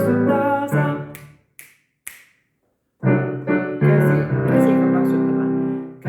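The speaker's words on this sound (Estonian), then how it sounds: "Sõrmi nipsuta, hästi nipsuta." Finger snaps in a first-grade children's music lesson: sharp dry clicks fall in time with a sung children's tune, and the voices carry over most of the snaps.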